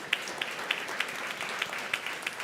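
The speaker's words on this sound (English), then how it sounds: "Give them another round of applause" Audience applause for the speakers at a Stop Food Waste Day event: a steady wash of many hands clapping at moderate distance, with sharper individual claps popping through the crowd.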